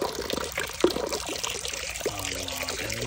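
Water pours and splashes continuously into a recirculating pond, a steady close trickle with a few louder splashes and gurgles.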